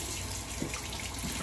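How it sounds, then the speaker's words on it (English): Cold tap water running steadily into a sink while a 1953 Gillette President safety razor is rinsed, a constant close splashing hiss with a couple of soft thuds as the razor passes through the stream. "And rinsing under cold water"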